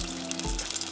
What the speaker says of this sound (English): Oil is hot, so go ahead and fry up our cheesecake